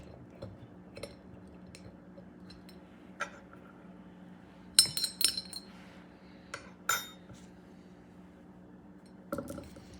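Hungarian peppers pushed into a glass hot sauce bottle, with scattered light clinks and taps of glass, a short cluster of sharper knocks around the middle, and quiet rustling between.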